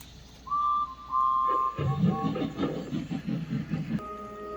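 Steam train sound effect in a Thomas the Tank Engine story, a sharp whistle followed by rhythmic chuffing puffs as the engine pulls away, fairly quiet and close, ending with a brief tone.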